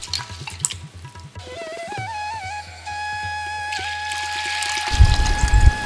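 Sago and fenugreek seeds being washed in water for idli batter, with pouring and sloshing at the start, a tonal middle stretch, and loud splashing near the end.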